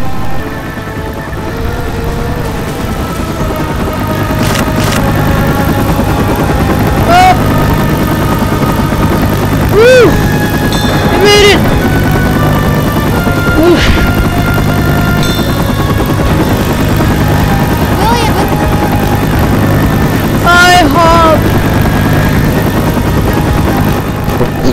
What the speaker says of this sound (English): Just a traditional heli?